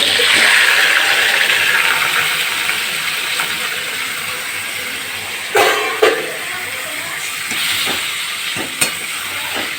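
Mutton pieces tipped into a hot pan of browned spices for spicy mutton kosha, a loud sizzling hiss that swells at first and slowly settles, with a few clattering knocks of meat and utensil against the pan.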